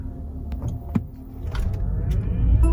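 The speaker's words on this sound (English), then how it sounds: "But that was a pretty quick acceleration." A 2023 Mercedes-Benz EQE 350 4MATIC electric car accelerates, heard from inside as a soft motor whine and rising road rumble that grows steadily louder over a few seconds, with brief clicks.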